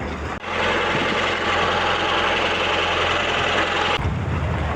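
Fishing boat engine running on a tuna trip, a loud, steady low drone with rough vibration that starts abruptly after a brief pause and cuts out near the end, with no talk.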